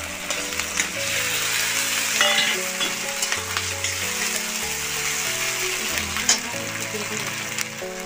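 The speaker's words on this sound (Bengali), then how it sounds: "আমার পেঁয়াজটা ভাজা হয়ে গেছে।" Onions frying in oil with ginger and garlic paste during village-style home cooking, a steady crackling sizzle that runs throughout with music playing in the background.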